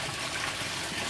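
Rainwater collected from a roof pours into an underground cistern beneath a bedroom at an off-grid desert homestead. A steady, close rushing gush of falling water fills the moment, with no other sound over it.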